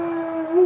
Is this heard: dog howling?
yes